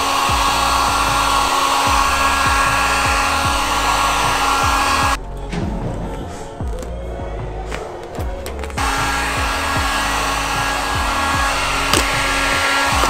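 Heat gun blows hot air over vinyl wrap film on a car fender, a loud steady electric whir and rushing airflow that briefly cuts out midway before resuming, close by with no talk.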